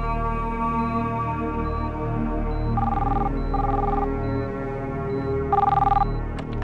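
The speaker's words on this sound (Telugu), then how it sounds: "డాక్టర్ రాజా, మీకు ఫోన్." A telephone rings three times in a Telugu movie scene, each burst of bright trilling tones fairly loud over a steady music bed, with a short gap between the first two rings and a longer pause before the third.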